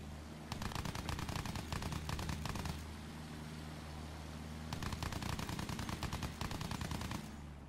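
Machine gun fire from a World War I aircraft in a video game, two long, loud rattling bursts of rapid shots separated by a few seconds of engine drone.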